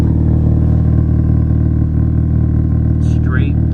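A 9th-generation Honda Civic Si engine idles with a resonator-deleted exhaust, a loud, steady low rumble heard close up, with someone talking over it.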